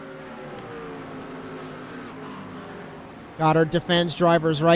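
A McLaren and a Mustang racing at Sebring International Raceway in a sim racing sports car series, engines droning steadily at speed, with a commentator talking over the car noise in the second half.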